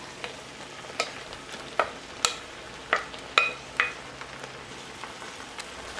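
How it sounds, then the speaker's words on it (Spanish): A low sizzle of chorizo and other ingredients frying for frijoles charros runs throughout, broken by about ten sharp scraping knocks of a utensil stirring in the pan. "Y lo voy a mezclar."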